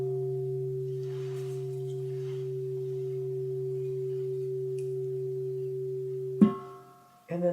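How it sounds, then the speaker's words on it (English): A sustained meditation bell tone with steady harmonics rings evenly for several seconds, then cuts off with a brief clatter and a short bright strike. "listening to the sound of the bell."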